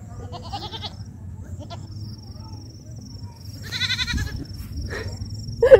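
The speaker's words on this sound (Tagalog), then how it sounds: "Kambing." Goats bleat a few times at a farm on the road near Dumaguete and Tanjay, short wavering calls at moderate distance over a low background rumble, with brief voices nearby.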